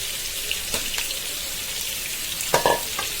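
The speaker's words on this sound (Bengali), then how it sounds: "এবার হলুদ আর লবণ আর ধনিয়ার গুঁড়া মেখে রাখা পটলগুলো দিয়ে দিচ্ছি।" Pointed gourd slices seasoned with turmeric, salt and coriander powder go into hot oil with fried onion, garlic and green chili, giving a steady sizzle with a few louder spits and stirring noises near the end.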